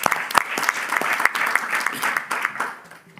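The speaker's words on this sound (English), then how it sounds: "Yeah, you can applaud." An audience at the ASOIF 2025 general assembly applauds in a full, fairly close burst of clapping that thins out and tapers off over about three seconds.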